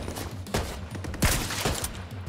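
Rapid gunfire in the video game The Division 2 during a Tidal Basin stronghold fight, with several sharp loud bursts in quick succession over a dense battle background.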